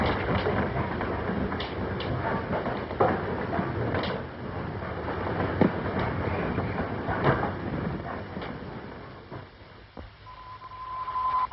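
A train rumbles steadily on rails at a station, with broadband rolling noise, scattered clacks and door or carriage knocks, fading into a quieter hum with a steady tone near the end.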